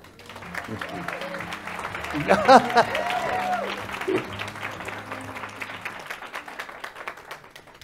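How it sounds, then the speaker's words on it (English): Audience at an economic update event giving a round of applause, the clapping rising and fading over several seconds while a few voices and tonal sounds poke through in the middle. "Please join me in welcoming them with a round of applause."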